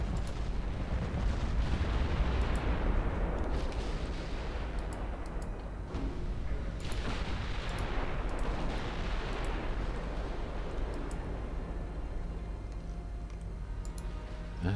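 Hessen-class battleships fire their guns at 24 kilometers in Ultimate Admiral Dreadnoughts, Germany 1910, a continuous thundering roar of naval gunfire with repeated booming salvos and faint clicking, loud and sustained throughout without talk.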